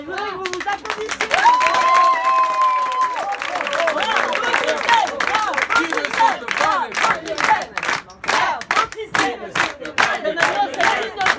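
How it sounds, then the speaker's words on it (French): A laughter yoga audience breaks into loud applause with cheers and whoops. The clapping grows into a dense, sustained roar with sharp individual claps toward the end, and voices call out over it. "Je voudrais que vous vous applaudissiez."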